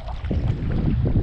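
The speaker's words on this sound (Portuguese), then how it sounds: "Aí, pessoal, o vento tá despertando, ó." Wind rising at sea around a small fishing raft off the coast, a steady low rumbling gust with water sloshing, loud and continuous throughout with no voices.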